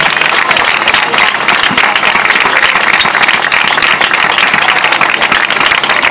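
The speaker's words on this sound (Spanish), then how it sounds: "Fuerte aplauso a Noelia." Loud, dense applause from an audience at an award ceremony, continuous close clapping filling the whole stretch without letup.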